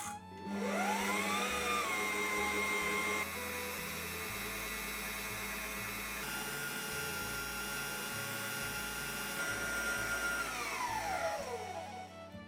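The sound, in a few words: electric whisk beating eggs and sugar for sponge cake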